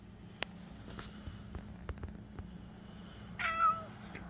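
A hungry stray cat eating chicken gives one clear meow near the end, after a few soft taps and faint scuffs over a steady low hum.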